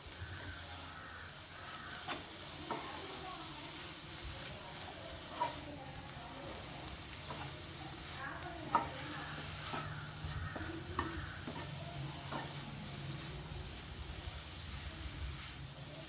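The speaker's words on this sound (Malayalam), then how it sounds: "ഇനി നമുക്കൊന്ന് ഇളക്കി കൊടുക്കാം." Ponnanganni spinach thoran stirred in a pan, a steady low scraping and shuffling with faint sizzling underneath and a few sharper knocks of the spoon against the pan.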